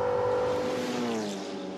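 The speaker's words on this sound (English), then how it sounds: "What's interesting about that car is the engine is in the back, so you can hear a lot of the rattles and squeaks" A turbocharged, rear-engined McLaren race car passes during a sprint race at Canadian Tire Motorsport Park, with a brief tonal engine note that falls in pitch as the car moves away, heard at moderate distance.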